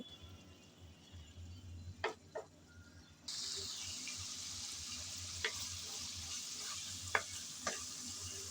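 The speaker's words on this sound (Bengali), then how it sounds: "আবারও কষিয়ে নেব টমেটো দিয়ে, যাতে ভালোভাবে আবারও একটু কষানো হয় আর টমেটোটাও নরম হয়ে আসে" Tomato frying in a pan for a water spinach stem curry, a soft sizzle that grows louder partway through, with a few sharp spatula taps against the pan and a low background hum.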